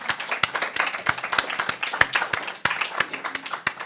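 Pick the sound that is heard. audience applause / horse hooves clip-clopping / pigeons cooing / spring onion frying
audience applause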